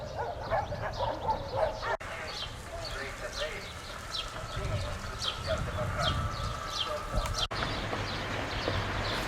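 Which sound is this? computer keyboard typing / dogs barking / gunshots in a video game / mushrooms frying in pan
dogs barking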